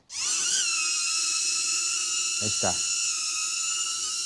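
HoverAir X1 Pro Max flying camera drone in flight, giving a steady, loud, high-pitched propeller whine with stacked tones that runs unbroken throughout, while a person speaks briefly near the middle.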